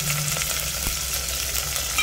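Turmeric powder stirred into a frying kadhi tempering, a dense, even sizzle of hot oil with faint scraping from the stirring, close and unbroken, no voices.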